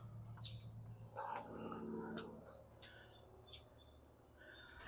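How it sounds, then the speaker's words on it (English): Faint, scattered chirps from small birds singing outdoors beside a sunny, open residential pool in Westerly, Rhode Island, set against a steady low background hum. "I hope you can hear the birds out here."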